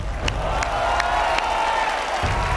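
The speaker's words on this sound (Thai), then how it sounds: "ขอเสียงปรบมือให้กับทั้งสองทีมครับ" A television cooking-competition studio audience claps and cheers for two teams, a dense wash of crowd noise with occasional sharper claps and a whoop, fairly loud and continuous.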